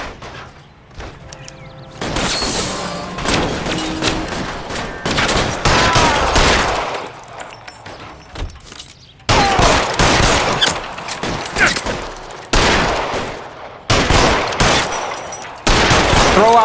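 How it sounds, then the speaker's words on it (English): Heavy gunfire in L.A. Noire during a shootout with security men, rapid bursts of loud close shots in clustered volleys separated by brief lulls, with occasional voices between the shots. "Fire a warning round."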